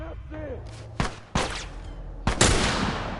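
Several sharp gunshots from the video game The Last of Us crack out at uneven intervals over a low hum, with a brief bit of voice at the start.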